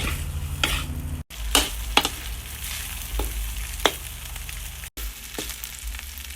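Rice with minced pork and egg, cooked the old-fashioned way, is stir-fried in a pan, giving a steady sizzle broken by scraping strokes of a spatula that come in irregular bursts, close and clear, with no voices.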